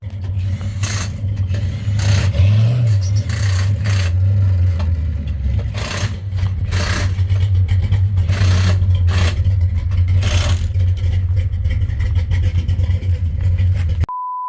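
Car engines idle and rev at a car show burnout area, a continuous low rumble with a rising swell near the start and repeated rough bursts of noise, loud and close, ending in a short electronic tone.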